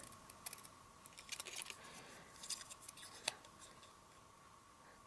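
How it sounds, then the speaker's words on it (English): Scissors snipping through stamped card stock, several quiet, crisp cuts and clicks scattered irregularly at close range, with no talking. "Snip it off."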